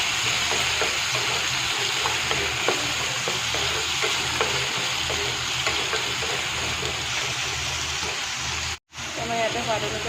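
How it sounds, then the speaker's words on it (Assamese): Ginger, garlic, chopped vegetables and potatoes fry in a hot pan with a steady, loud sizzle and occasional stirring scrapes, broken by one brief cut near the end. "ফ্ৰাই কৰি ল'ম"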